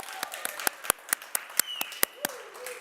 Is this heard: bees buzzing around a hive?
no